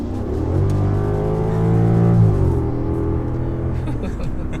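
A V10 Audi S8 in sport mode at full throttle, its engine note climbing loud and close before dropping at a gear change and building again, with a voice faintly present.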